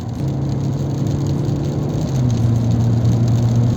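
A Volkswagen Golf 4 with a four-speed automatic cruising on the highway, heard from inside as a steady low engine drone and road rumble that rises slightly in pitch partway through.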